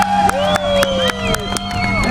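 Crowd at a Chris McNeil motorcycle stunt show cheers and whoops, with broad clapping bursts repeating every quarter second or so, loud and close amid steady babble; music-like tones ride underneath.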